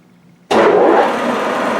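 An Ajax milling machine switches on after a faint quiet hum, jumping abruptly to a loud, close, steady motor whir and mechanical roar that holds at full level with no voices.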